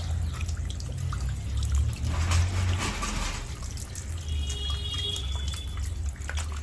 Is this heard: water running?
yes